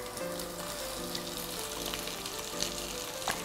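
Four diced onions sizzle in a pan as they soften, a steady soft crackle with a faint hum and a few small clicks, close by and with no voices.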